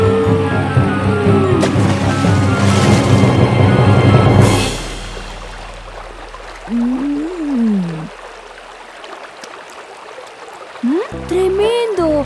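A cartoon river of chocolate flows with a steady rushing, trickling wash of water, loud at first and then quieter, with animated characters' voices and tonal effects over it.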